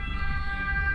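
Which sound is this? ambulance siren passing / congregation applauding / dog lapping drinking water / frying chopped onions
ambulance siren passing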